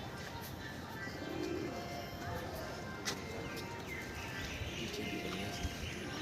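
Soft pigeon coos sound faintly against quiet outdoor background noise, with a few sharp clicks now and then.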